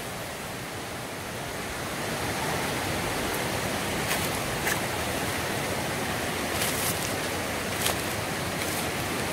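A jungle river flows steadily beside a walking path, a loud, continuous rushing wash of water with a few faint clicks on top, and no voices.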